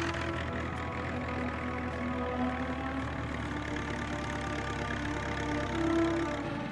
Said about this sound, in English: The engine was then started.